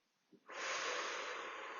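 A slow, gentle exhaled breath flows out as a steady soft hiss, close and quiet and lasting over a second after a brief intake, with no talking.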